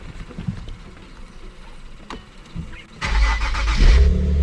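A car engine turns over and catches, then revs up loudly to a strong, rising roar, close by and alone.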